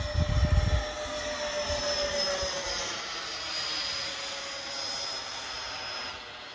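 An electric ducted-fan MiG-29 radio-control jet model flies past with a steady high-pitched whine that holds, then slowly fades. There is a brief low thump at the start.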